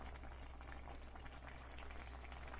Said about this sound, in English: Now cover and let boil about 15 minutes or until the rice is done